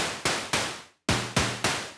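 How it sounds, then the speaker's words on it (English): Moog DFAM drum synthesizer beat: punchy, noisy percussive hits with sharp attacks and quick decays, several in a row with a short gap in the middle. "Then we brought in the Moog DFAM for a drum beat."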